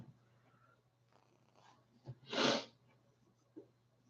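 One short, fairly loud sneeze bursts out in a quiet room during a colouring session, preceded and followed by faint breathing and small movement noises.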